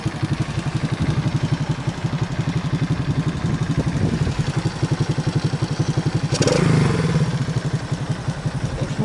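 A small moped engine, after repair and prone to poor cold starts and stalling, idles close by with a steady, rapid putter, briefly swelling louder midway before settling back.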